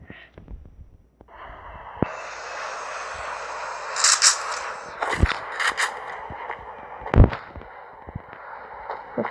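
Propeller airplane engine in the battle royale video game Free Fire, a steady mid-range drone held across most of the clip, with brief sharp game bursts and clicks breaking through.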